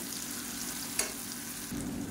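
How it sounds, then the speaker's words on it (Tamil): Ground chutney sizzles in a hot pan while being stirred and sautéed, a continuous close frying hiss with a single sharp scrape or clink midway and a slightly louder sizzle toward the end. "ஒரு சூட்லேயே வந்து நல்லா வதக்கி விட்டுக்கோங்க."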